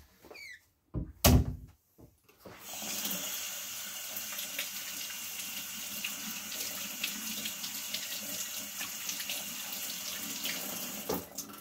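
A spoon is rinsed under a running kitchen tap while making a homemade prison drink, with steady, close water flow and splashing running for about nine seconds after a few knocks and clatters at the start.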